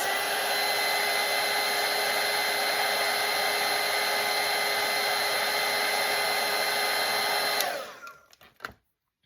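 A hair dryer blows steadily and loudly to dry watercolour paint on a Christmas Grinch painting, a continuous whooshing hum that cuts off near the end, followed by a few faint handling knocks.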